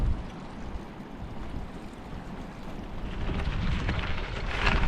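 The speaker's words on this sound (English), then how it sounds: "Next to this little waterfall." A small waterfall beside a trail gives a steady, broad rushing wash of water, close and continuous, with wind noise mixed in and growing slightly louder toward the end.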